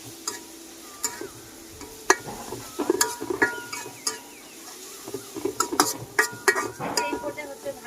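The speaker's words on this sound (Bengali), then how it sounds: "দেওয়ার পর হচ্ছে একটু ভেজে নেব রসুন বাটাটাকে" Garlic paste fries in a pan while a spoon or spatula scrapes and taps against the metal in irregular clicks and knocks over a soft sizzle, close up, with a voice talking at times.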